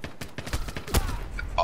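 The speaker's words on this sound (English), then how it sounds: "I got shot through the wood." Gunfire in the Modern Warfare video game, several quick loud shots in a short burst mixed with game sounds and faint voices.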